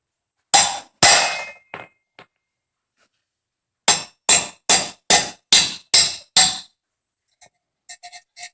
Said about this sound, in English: Just hammer that guy on down.